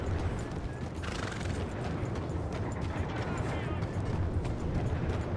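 A horse in a Western video game neighs and whinnies over clip-clopping hooves amid a steady, fairly loud game soundscape, with voices talking in the mix.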